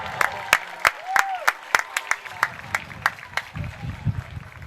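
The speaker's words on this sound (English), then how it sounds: "Come on, big applause for Patrick Burke." Scattered, uneven claps crack out one after another above a low crowd murmur at a varsity high school football game, Darien against Wilton, as players are introduced.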